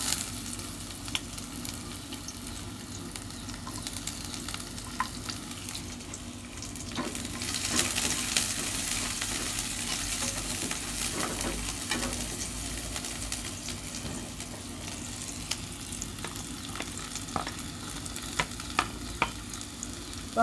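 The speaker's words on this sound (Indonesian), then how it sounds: "Kita mau tumis bawang merah dan juga bawang putihnya." Shallots and garlic sauté in a hot pan, giving a steady close sizzle with occasional scraping and stirring clatter throughout, no voices.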